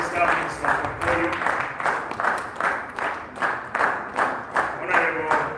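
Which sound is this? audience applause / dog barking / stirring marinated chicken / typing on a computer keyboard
audience applause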